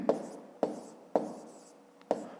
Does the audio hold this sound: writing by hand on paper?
yes